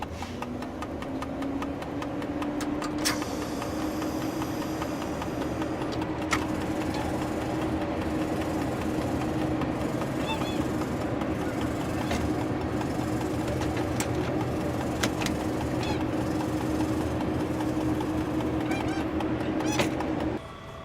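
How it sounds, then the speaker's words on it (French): BB Jacquemin electric locomotive with its traction motors under test, giving a steady loud mechanical hum with a slowly rising whine throughout, joined by scattered clicks and knocks, with no talking. "On va maintenant tester les moteurs de traction."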